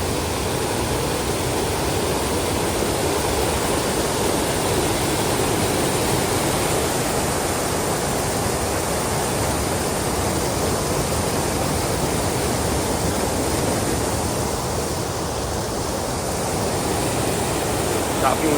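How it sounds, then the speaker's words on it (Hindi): A fast mountain stream on the Kinnaur Kailash trek roars with a loud, unbroken broadband rush of churning water, steady and close for the whole stretch. "ये देखिए नाला नीचे कितनी तीव्र गति से वेग के साथ जा रहा है और पानी की गर्जना भी आप सुन रहे हैं।"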